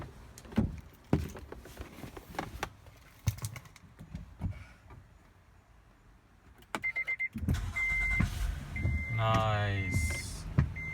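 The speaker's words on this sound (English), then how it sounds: "Now let's fire up the car and see if it works." A Honda Odyssey's engine turns over and catches after a battery replacement, a loud burst of cranking that settles into a steady near idle, with a chime and some clicks from the car.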